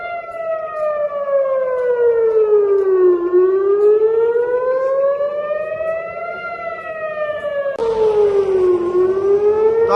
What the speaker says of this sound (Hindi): टेल अवीव में लगातार सायरन्स बज रही हैं